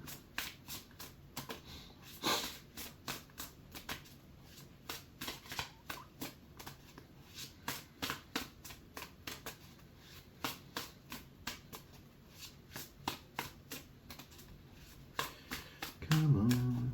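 Tarot cards shuffled by hand in a long run of quick riffling bursts, soft and close, with brief pauses between handfuls and a short voice at the very end.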